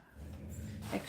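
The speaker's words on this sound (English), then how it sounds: "my dog is going to get his guard dog on now" A dog whimpers faintly in the background indoors during a paper craft session, a soft brief whine with light breathing over room noise.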